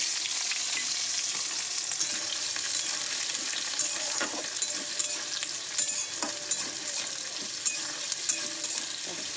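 Steady oil sizzling and crackling in a pan as chopped onions and whole garam masala fry, with occasional faint clinks of a spoon stirring.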